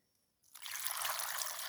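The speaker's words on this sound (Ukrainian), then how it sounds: "заливаю водою" Water poured over small tomatoes on the vine in a container for salting, a steady close splashing trickle that starts abruptly after a short quiet moment and keeps running.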